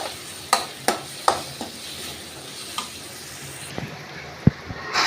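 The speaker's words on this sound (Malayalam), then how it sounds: "വെളുത്തുള്ളിയൊക്കെ ഇട്ടെടുത്ത് ഒന്നും കൂടെ നല്ല ഇളക്കി കൊടുക്കാം" Garlic, green chilli and crushed ginger stirred in a hot pan for a chickpea curry, with a steady sizzle beneath a few sharp spoon scrapes and knocks against the pan, close and alone with no talk.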